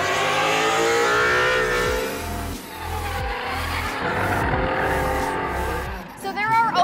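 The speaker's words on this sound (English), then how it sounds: "drifting and tearing things up" Ford S550 Mustangs drift at the SEMA 2018 show area, loud revving engines and long squealing tires filling the air, with a voice talking over the roar.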